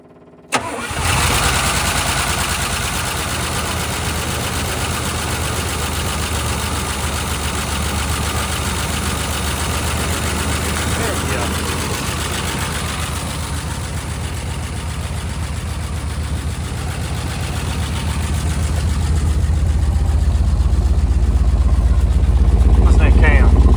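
A 1979 Oldsmobile Cutlass left sitting for 29 years cranks and fires up once the fuel pump is on, then runs steadily, growing louder and rougher toward the end as the revs rise.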